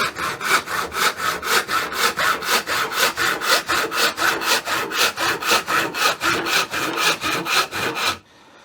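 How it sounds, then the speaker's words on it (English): A hand panel saw rip-cuts a wooden board clamped in a vise, its strokes rasping in a steady, even rhythm of about two per second, loud and close, before stopping abruptly. "saw down until I stop here, flip the board over again"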